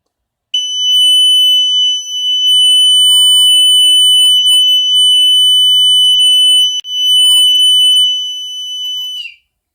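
A homemade carbon monoxide and natural gas detector alarm sounds a piercing, continuous high-pitched electronic tone, close and very loud, briefly cutting out once before stopping abruptly.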